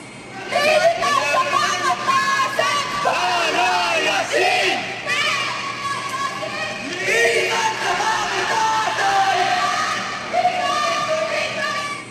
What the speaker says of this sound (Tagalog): Sa isang bahagi ng video, sumisigaw na ang mga estudyante.